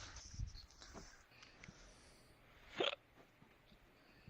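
A single short hiccup stands out near the end, quiet and close, amid faint room noise and small rustles.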